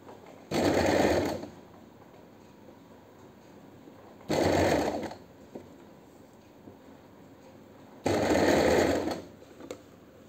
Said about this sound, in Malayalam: ബാക്കിയുള്ളത് നമുക്കിങ്ങനെ നീട്ടി സ്റ്റിച്ച് ചെയ്ത് കൊടുക്കാം